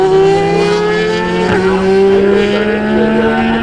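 600cc racing motorcycles on a race track, a loud sustained high-pitched engine whine with steady harmonics and a brief pass-by swell near the middle, no voices.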